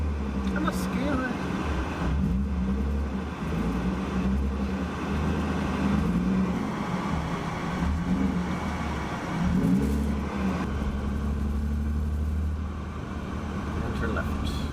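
A BMW E36 drives along on a test run, a steady engine drone and road rumble with mild rises in revs throughout, while a person talks over it.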